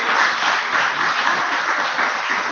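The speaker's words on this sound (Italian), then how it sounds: "da Villelago vi mandiamo un bel saluto con un applauso." Brief, steady burst of audience applause at an award ceremony, dense and fairly loud clapping from a room full of people with no pause.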